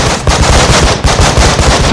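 Gunfire in the tactical game Breach and Clear sounds as loud, rapid automatic bursts. The volleys come in quick, close succession with a brief gap near the middle.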